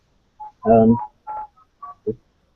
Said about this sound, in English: That's your phone, it's fine.